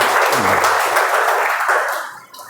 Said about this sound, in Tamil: கைத்தட்டலாம் இந்த நேரத்தில் திரு உதயசங்கர் அவர்களுக்கும்